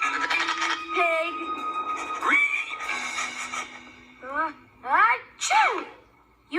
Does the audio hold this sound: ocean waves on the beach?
no